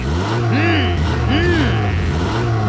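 A cartoon speed car's super strong engine revs loudly in repeated rising-and-falling bursts over a steady low rumble, with a voice briefly present.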